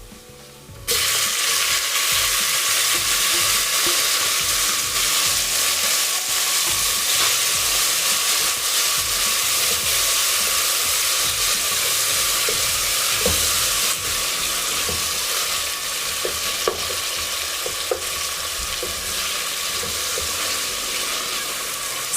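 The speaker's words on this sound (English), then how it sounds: "Now I'm going to add tomatoes." Tomatoes dropped into a pan of frying onions, ginger and garlic for a traditional village pilau, bursting into a loud, steady sizzle with brief stirring clicks, continuing unbroken for over twenty seconds with no talking.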